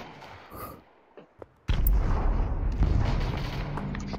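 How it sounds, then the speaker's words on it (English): First-person shooter gunfire erupts suddenly after a quiet moment, a loud, dense stretch of shots and booming impacts that rumbles on steadily. "the other guy's shooting me"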